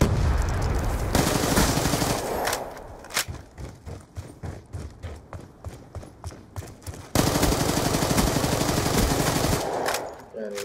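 Double pistols fire in a video game: dense bursts of rapid gunshots open and close the passage, with slower, separate shots in between, loud and close.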